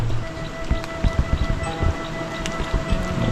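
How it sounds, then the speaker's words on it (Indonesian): Light drizzle falling outdoors at a rural fishing spot, a steady soft patter of raindrops with scattered louder drips, close and continuous with no talking. "Gerimis, ini hujan nih, gerimis tuh."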